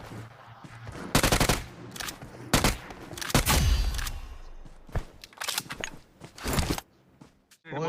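Gunfire in the BGMI battle-royale mobile game, with several loud bursts of automatic fire and single shots separated by short pauses.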